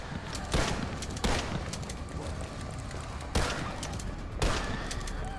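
Pump-action shotgun in a video game, four loud, sharp blasts spaced unevenly over a constant background rumble of game noise.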